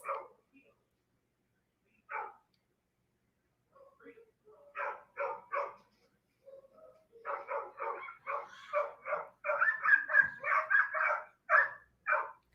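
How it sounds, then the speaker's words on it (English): Several dogs bark in repeated bursts, sparse at first and then in a dense, loud volley near the end, with short gaps between yaps. "the dogs are barking"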